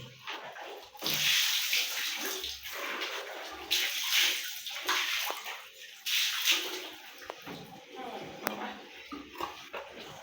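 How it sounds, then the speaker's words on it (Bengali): Cut fish pieces are washed in water in a village kitchen, with repeated sloshing and splashing bursts and dripping, close and fairly loud, alongside a little background talk. "আর একবার একটু ধুয়ে নেব"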